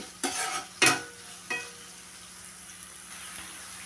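Okra (bendakaya) fries and is stirred in a pan, with a steady close sizzle broken by three sharp scraping stirs early on, then a softer continuous frying hiss.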